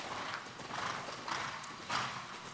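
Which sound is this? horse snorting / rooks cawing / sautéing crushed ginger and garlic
horse snorting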